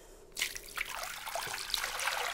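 Lukewarm water pouring onto local wheat flour for couscous, a soft close trickle and splash beginning after a brief quiet moment and continuing steadily.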